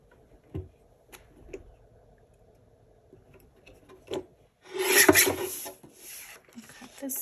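Paper is trimmed for a cash envelope binder, with scattered soft rubs and ticks and then a louder scraping, cutting burst near the end, close and quiet, without talk.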